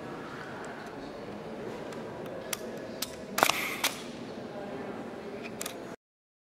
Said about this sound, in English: f16, 2 seconds, using a remote shutter release.